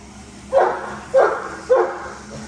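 A small dog named Charlie barks three times at a cart, with short, evenly spaced, mid-pitched woofs close to the listener and no voices.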